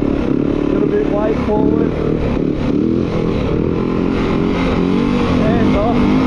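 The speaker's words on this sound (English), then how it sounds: "first time I've been able to actually get a full one-handed wheelie going." A Yamaha WR450F dirt bike engine runs continuously during a one-handed wheelie, with a steady rumbling drone and slight rises in revs, while someone talks over it.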